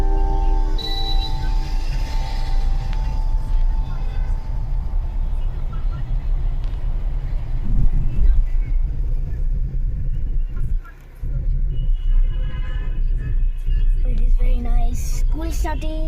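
A car's engine rumbles steadily while it moves into a parking space at South City Mall, with people talking over the low, continuous drone throughout.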